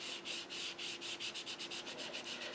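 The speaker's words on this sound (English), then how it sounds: "we're going to take a sponge and we're going to sponge this bottom half underneath this" A sponge rubs ink onto typing paper in quick repeated strokes, a soft scratchy swish that pulses in an even back-and-forth rhythm, close and alone.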